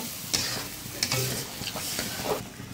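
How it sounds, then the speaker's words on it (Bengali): Spice paste of ginger, garlic, garam masala, cumin, chili, turmeric and salt stir-fried with water in a pan for a chicken curry, giving a steady close sizzle broken by several sharp scrapes of a spoon across the pan, with no talking. "এখন মশলাটা ভালো করে কষাই নিব।"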